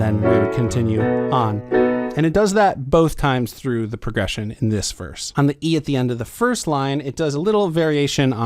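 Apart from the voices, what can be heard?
No everyday noises stand out.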